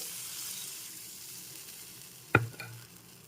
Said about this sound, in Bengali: চিংড়ি মাছটাকে নেড়ে চেড়ে ভেজে নিয়েছি এবার দিয়ে দিচ্ছি জল